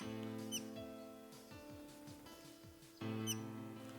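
A yellow-tufted honeyeater chirps out in the bush, giving a few sharp, high, quick calls spread across several seconds over a steady background hum, fairly faint and with no voices.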